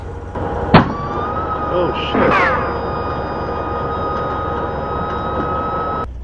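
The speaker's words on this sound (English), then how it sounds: "that was my cab airbag exploding" A sharp pop near the start as a truck's cab air suspension bag bursts, followed by a burst of hissing air inside the cab over a steady engine idle; a man briefly exclaims.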